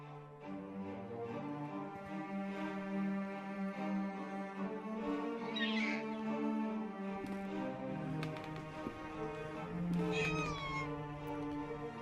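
Cats meowing in the video game The Last Door, with a couple of distinct plaintive meows rising over a sustained, droning musical backdrop.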